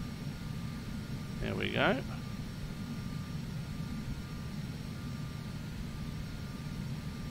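Embraer Phenom 300 jet engines at idle thrust in the Prepar3d flight simulator, a steady low whine and broadband rumble running throughout, with a short spoken phrase near the start.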